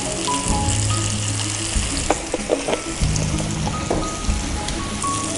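Boiled carrots and potatoes sauté in a pan with steady close sizzling and stirring, which sets up a dense continuous hiss broken by a few clinks of a utensil against the pan.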